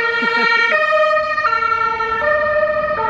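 Fire truck siren on a street in Germany, loud and close, holding a steady two-tone pattern that switches pitch about every three-quarters of a second, with faint traffic underneath and no talking.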